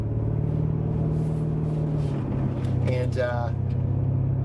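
A 2018 BMW M5 driving in Sport Plus mode behind slow traffic gives a steady low engine drone inside the cabin, with someone talking over it.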